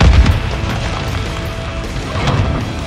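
A cruise missile detonates in Modern Warfare 2, a loud low boom with a rumbling tail that swells again near the end, heard alone without voices.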